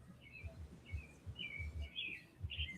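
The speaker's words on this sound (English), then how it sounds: "Who's the chirping birds?" Birds chirp in short high calls repeating every half second or so, faint and distant, over a low background rumble.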